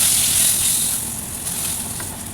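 Onion frying in oil in a pan with fish, a continuous broad sizzling hiss close up, fairly loud and even throughout with no voices.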